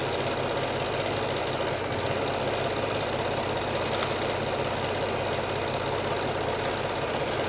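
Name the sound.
sewing machine stitching a hoodie sleeve seam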